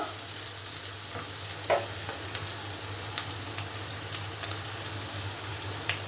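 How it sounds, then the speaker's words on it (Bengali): Chopped onions frying in a pan for a pointed-gourd dorma: a steady, fairly faint sizzle runs throughout, with a few sharp spatula taps and scrapes scattered across it. No one speaks. "কুচোনো পেঁয়াজগুলো একটু ভেজে নেব"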